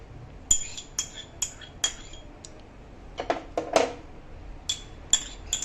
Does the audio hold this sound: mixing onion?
yes